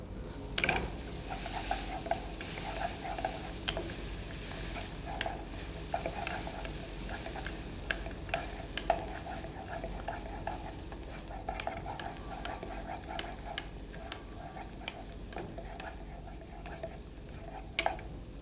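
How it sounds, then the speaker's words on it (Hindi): Finely chopped onion is lightly fried with cumin in a pan, giving a soft continuous sizzle broken by frequent small clicks and scrapes of a spoon stirring against the metal. "जब जीरे का फ्लेवर आने लगे तो इसमें छोटा कटा हुआ प्याज, इसको डालकर हल्का सा भून लें।"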